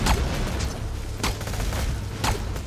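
Steady gunfire from Borderlands 2 co-op play rattles on loudly and continuously, with a few sharper shots standing out from the sustained din.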